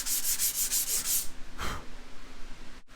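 Rapid back-and-forth sanding strokes rasp close up in a quick rhythm, then pause before one longer scrape and a brief silence.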